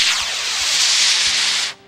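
A model rocket motor ignites and roars in a steady broadband hiss for nearly two seconds, loud and close, then cuts off abruptly.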